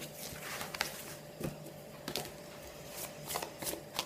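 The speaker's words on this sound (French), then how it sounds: "je vais prendre, pour terminer, une carte synchronicité" Tarot cards being shuffled and one synchronicity card drawn, heard as soft, close riffling and flicking bursts spaced a second or so apart, quiet and without talk.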